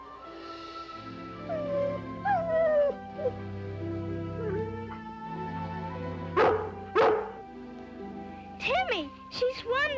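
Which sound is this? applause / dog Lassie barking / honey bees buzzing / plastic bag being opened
dog Lassie barking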